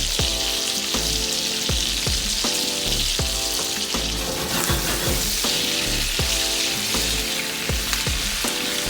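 Rib eye steak sears in a pan of butter with rosemary, a loud continuous sizzle and crackle broken by repeated spoon or utensil clinks as the butter is stirred and basted, with no talking.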